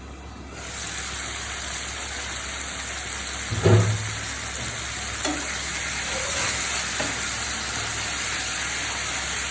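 Tomatoes with a little salt cook under a lid in a pan, giving a steady soft sizzle and bubbling hiss, with a brief knock of the pan partway through and no talking.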